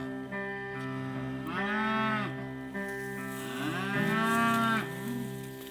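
Cattle on a Nevada County ranch let out two long, loud moos close by, one after the other with a short gap between them and no talking.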